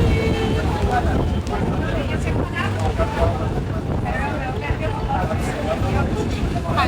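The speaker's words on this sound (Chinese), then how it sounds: "太大风了。" Strong wind buffets the microphone outdoors at a seaside restaurant in Polignano a Mare, making a loud, continuous low roar with gusty swells throughout, and faint voices may sit underneath.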